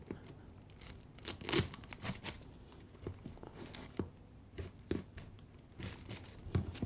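Close, quiet crinkling and tearing as a sticker on old jeep parts is slowly peeled from its waxy backing, in short uneven bursts with pauses.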